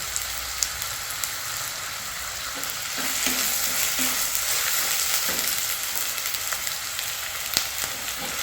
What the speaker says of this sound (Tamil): வெங்காயம் வேகட்டும் நல்லா